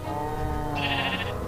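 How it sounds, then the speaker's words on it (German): A sheep in the video game Minecraft gives a single loud, close bleat over steady game background sound. No one talks. "Wo bist du, Schaf? Da bist du,"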